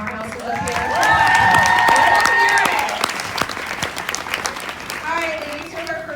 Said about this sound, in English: Can we get a round of applause for these powerhouses up here?